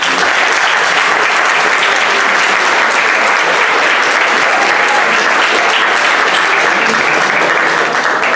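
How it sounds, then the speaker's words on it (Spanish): An audience at a university keynote lecture claps in a dense, continuous burst of applause that stays loud and even for several seconds. "Le damos un aplauso."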